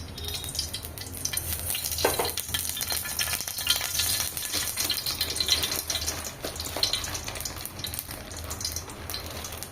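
Urad and chana dal fry in hot oil in a kadai for radish chutney, making a loud continuous sizzle with stirring scrapes and occasional crackles, no voices.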